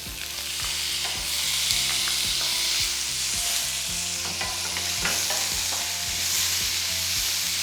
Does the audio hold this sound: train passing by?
no